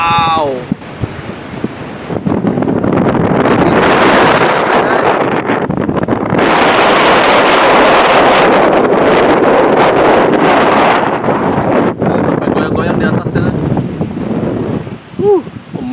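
Strong wind roars across a microphone high on a telecom tower, a loud continuous buffeting rush that swells and eases over the whole stretch, with faint voices now and then.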